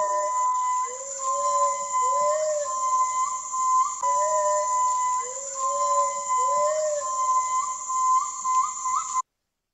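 Mentawai gibbon loud calls: a loud series of rising, whistling hoots repeating in bouts over a steady high electronic-sounding drone, with no talking.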